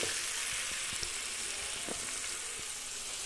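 Dry chili powder stirred into hot sizzling oil in a pan while cooking pulao, giving a continuous hiss of frying with occasional soft scrapes and taps of the spoon, no talking.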